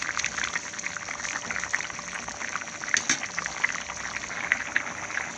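A pot of moong dal and bottle gourd simmers in water on the stove, giving a quiet, continuous bubbling with small irregular pops and soft liquid gurgles, no voices.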